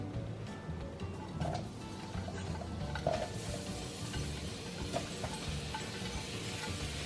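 Onions fry in avocado oil in a pan, giving a steady, loud sizzle with a few faint clinks of a utensil against the cookware.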